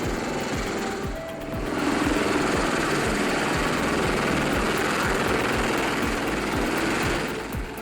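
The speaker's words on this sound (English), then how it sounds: "fierce winds blasting up to 200 miles per hour from the spinning rotors of the V-22 Osprey" The spinning rotors of a V-22 Osprey tiltrotor aircraft beat out a loud, fast, rhythmic thumping over a roaring engine wash, close and continuous.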